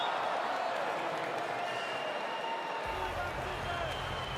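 Crowd cheering for the Netherlands at a women's volleyball Nations League match between Poland and the Netherlands fills the arena with a steady roar, and a commentator talks over it.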